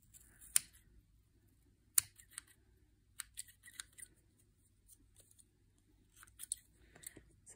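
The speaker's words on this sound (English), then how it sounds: "And then trim off some of the overhang." Quiet snips of scissors trimming the overhang off handmade craft rabbit tails, a few sharp separate cuts spaced out over a near-silent background.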